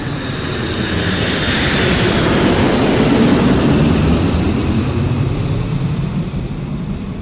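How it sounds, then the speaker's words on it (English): A fixed-wing airplane flies low overhead on approach to land near a farm, its engine roar swelling to a loud peak midway and then slowly fading, a continuous wash of sound with no talk. "That flight pattern is right over the top of our radio studio"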